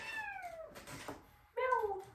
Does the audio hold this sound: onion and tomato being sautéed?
no